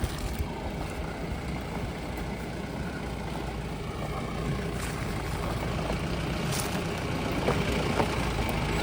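A vehicle engine runs steadily while the vehicle creeps slowly down a steep slope in a coastal village during a Holi festival, a continuous low rumble with no speech.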